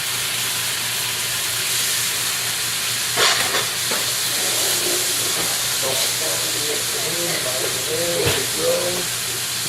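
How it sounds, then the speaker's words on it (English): Diced strawberries sizzle in hot oil with browned garlic, a steady close hiss of frying with a few sharp crackles and clinks from a pan and spoon. "There's my diced strawberries, throw them right in."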